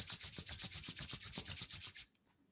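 Palms rubbed briskly together in a steady back-and-forth rhythm, close and soft, about a dozen quick swishing strokes that stop abruptly, leaving near silence.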